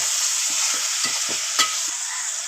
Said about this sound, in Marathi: आता शिमला मिरची टाकून घेऊया। मिक्स करून घेऊ आता मस्त।